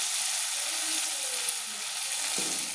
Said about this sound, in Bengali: দিয়ে আমি মাঝারি ফ্লেমে করে ভেজে নিচ্ছি